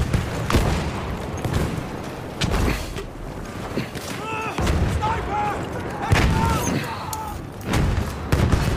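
Grenade blasts in a combat video game, several heavy booms thudding at intervals amid ongoing gunfire, with voices talking in between.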